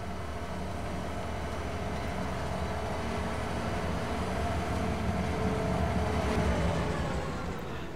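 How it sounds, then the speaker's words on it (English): Train rolling along on a Western Australia map in Farming Simulator, a steady, continuous low rumble of wheels and engine that swells slightly toward the end, with no talking. "once it stops, you can jump on the train"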